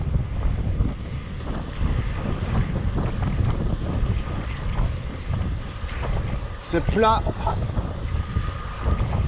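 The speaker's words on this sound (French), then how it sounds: "Toujours un peu de vent de face," Steady headwind buffets the microphone while cycling flat ground through fir forests, a continuous low rumbling roar with a brief spoken remark near the end.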